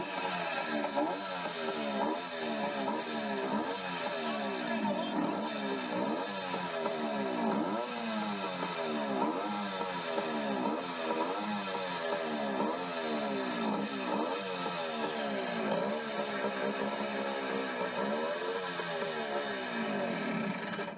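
A 1939 Oldsmobile Series 60 engine runs steadily after two years unstarted, a close, continuous rhythmic idle with a regular pulsing chug throughout and no talking.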